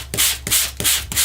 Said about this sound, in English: you just sand over top of this image